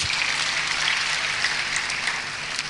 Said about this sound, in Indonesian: Tepuk tangan yang paling meriah bagi Allah.